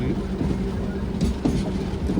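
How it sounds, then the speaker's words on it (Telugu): A Duronto express train running on the rails on the Renigunta to Bengaluru route, heard from on board as a steady low rumble with faint rhythmic clatter, continuous and fairly loud throughout. "సో అవంతా కార్లు ఎత్తుకొని పోతుంది ఆ ట్రైన్ అయితే."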